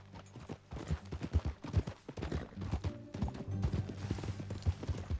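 Horse hooves clip-clopping in the Western game Red Dead Redemption 2, a steady rhythmic trot of close, distinct hoof falls with faint creaks of tack underneath and a low hum beneath.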